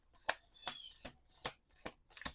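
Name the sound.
shuffling a deck of cards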